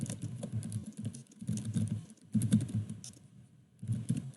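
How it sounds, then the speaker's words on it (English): Computer keyboard typing, a fast close patter of keystrokes in bursts separated by short pauses. "If you notice as I'm typing"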